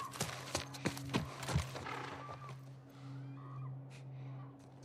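Horse hooves clip-clop in quick, sharp steps in The Last of Us video game, followed by a quieter, drawn-out horse call as the footfalls stop.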